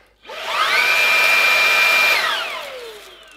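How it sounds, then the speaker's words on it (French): A vacuum cleaner motor whirs up to a loud, high, steady whine, holds for about two seconds, then winds down with a falling pitch, heard alone and close. "Quand tu passes de ça, un aspirateur, on va dire traditionnel"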